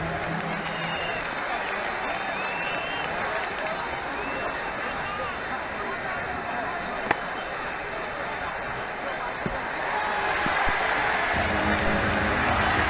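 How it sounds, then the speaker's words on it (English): A stadium crowd in the Ashes Cricket 2009 video game applauds and cheers steadily through a boundary shot, a broad wash of distant clapping and murmur that swells near the end. "The crowd enjoyed that shot."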